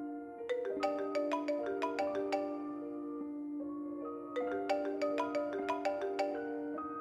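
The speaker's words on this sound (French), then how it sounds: "à ce moment précis, mon téléphone sonna de nouveau." A mobile phone ringtone rings out clearly and alone: a bright, plucked-sounding melodic phrase of quick notes plays, pauses briefly, then repeats.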